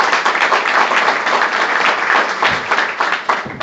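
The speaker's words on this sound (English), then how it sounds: "Please give Melanie a round of applause" Audience at a Wilson County, Tennessee community gathering applauding Melanie, a dense, steady wash of many hands clapping close by with no talk, sustained for the whole few seconds.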